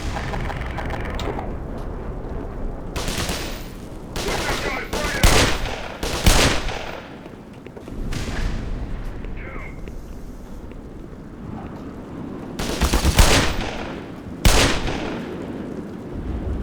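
Gunfire and grenade blasts in the Black Mesa video game, sounding as loud bursts of shots and several sharp explosions spread through the stretch over a steady background rumble.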